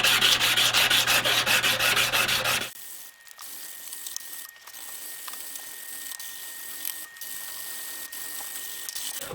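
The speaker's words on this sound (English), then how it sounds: "hand sanding like this is by far the most unenjoyable part of the process of making a knife" A custom knife blade is sanded by hand with 120-grit paper, giving a loud, fast rhythmic rasping for a few seconds, then quieter, sparser rubbing strokes over a low background hiss.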